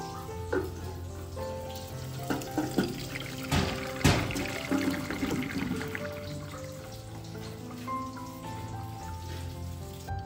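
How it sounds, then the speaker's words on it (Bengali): Water drains through a strainer in a home kitchen while a Bengali fish curry is being made, a splashing, trickling pour with several louder gushes and clatters early on, then tapering to a thinner dribble. "জলটা ছেঁকে নিই।"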